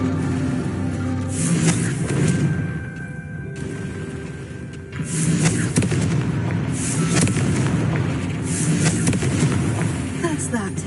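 Repeated Confringo fire-spell explosions from the Hogwarts Legacy video game, a dense run of booming, crackling blasts over game music and ambience, with spoken spell incantations mixed in.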